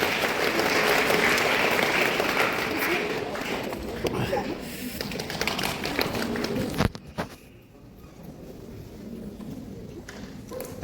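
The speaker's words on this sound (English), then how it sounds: "A big round of applause for these 2 gentlemen." A crowd applauds loudly at a school spelling bee competition, clapping steadily for several seconds before it thins out and fades, with voices mixed in.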